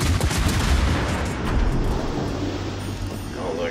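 The cruiser Prinz Eugen fires naval gun salvos during a ranked World of Warships battle, with heavy booming shots over a loud rumbling roar of battle noise.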